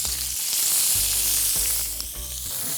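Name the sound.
chicken thighs searing skin side down in olive oil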